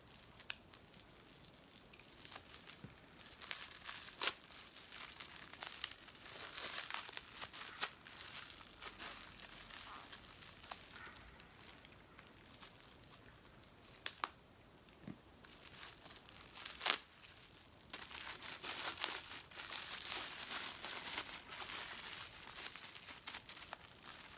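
Tissue paper wrapping an imported aroid plant from a shipped package is pulled and unwrapped close up, with continuous crinkling, rustling and occasional sharp tearing bursts, fairly quiet and with no talk.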